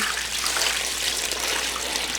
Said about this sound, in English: And you just pour it in.